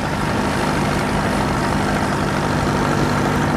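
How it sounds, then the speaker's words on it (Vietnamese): A fishing boat engine drones steadily as the boat enters Lagi harbour, a loud, unbroken low mechanical hum with a constant pitch and no pauses. "ghe ra vào cửa cảng"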